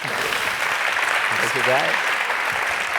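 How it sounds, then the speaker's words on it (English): Steady applause from an audience at a live event in Vienna fills the clip, with someone briefly speaking over the clapping. "You can make an applause."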